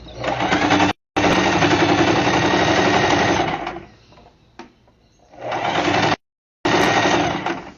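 A sewing machine stitches over an earlier seam on a diaper holder, loud rapid mechanical chattering in long bursts broken by short silences and a quieter pause between runs.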